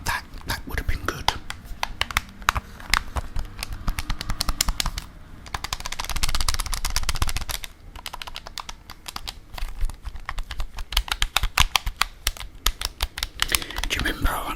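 Game controller triggers and buttons click in quick rapid runs throughout, close and crisp, with a person talking over the clicking.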